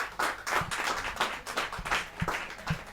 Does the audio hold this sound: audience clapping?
yes